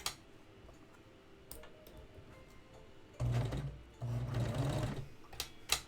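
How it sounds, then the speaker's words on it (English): A serger sewing machine runs on fabric in two loud bursts of stitching, about a second and nearly two seconds long, after a quieter stretch of faint handling clicks and taps. "Sergers can be a little finicky sometimes."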